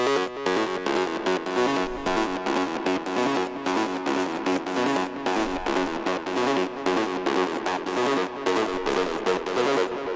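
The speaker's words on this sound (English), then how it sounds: "tuning it up an octave with this particular shifter sounds really," Synth passage played first dry and then through an octave-up pitch shifter, the shifted version grittier and more distorted; dense rhythmic stabs with steady, fairly loud level, no voice over it.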